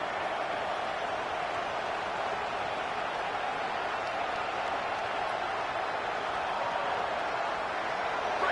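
A college football stadium crowd at an Alabama game roars in a steady, far-off wash of cheering that holds at an even level throughout, with no break.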